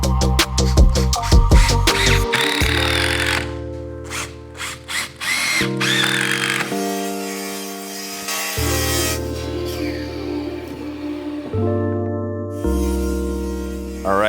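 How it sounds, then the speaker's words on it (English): A power drill drives 1.5 inch screws into an Ekoduro planter board, in repeated loud whirring bursts that stop and restart with short pauses between, close up and with no voices. "then I can go ahead and screw this guy together"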